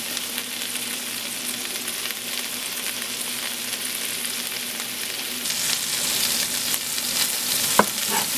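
A beef burger patty fries on a hot surface with cheese melting on top, giving a steady broadband sizzle that swells louder near the end, capped by a single sharp clink.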